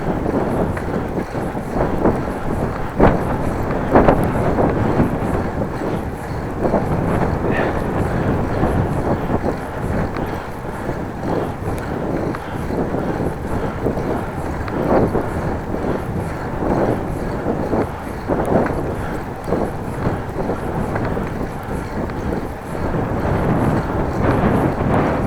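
Wind roars across the microphone of a bicycle rider heading west on a road near Groningen, a constant loud buffeting rumble with gusting surges and no speech throughout.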